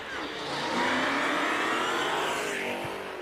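Dodge Hellcat roaring down a drag strip at a street racing event, a loud sustained engine scream that swells and holds steady over about three seconds.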